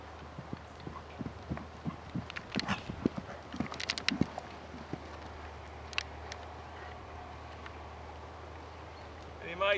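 A horse's hooves clip-clop in quick irregular strides over ground poles and small fences of a jumping grid in a training session, moderately near, under a steady outdoor hum with a voice coaching.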